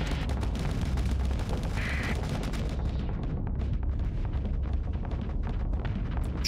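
Weapons fire in the space game Starsector rumbles as a dense, continuous barrage of low booms and crackling blasts, steady and loud without pause, with no talking.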